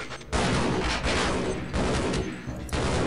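Dense, sustained bursts of gunfire fill a Half-Life game scene, loud and close, with brief dips between volleys and no voices.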